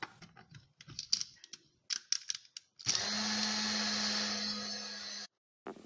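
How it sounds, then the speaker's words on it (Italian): Granulated sugar is ground in a small electric grinder: a few handling clicks and taps come first, then the motor whirs loudly and steadily for about two seconds before cutting off abruptly. "Metto lo zucchero a granelli in un macinino e macino."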